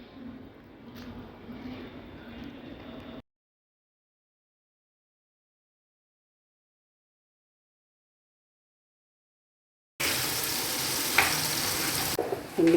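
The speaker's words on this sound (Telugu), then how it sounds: "సన్నగా తరిమి పెట్టుకున్న ఆనియన్స్ వేసుకోవాలి. అవి కొంచెం బ్రౌన్ కలర్ వచ్చినంత వరకు వేయించుకోవాలి" Thinly sliced onions frying in oil in a kadai, a steady hissing sizzle that runs for a few seconds, cuts to silence, then returns louder and brighter near the end.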